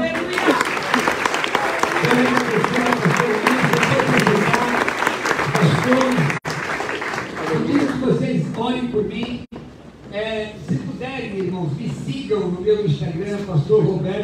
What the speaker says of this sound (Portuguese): Todos são crentes, então aplaude o Senhor.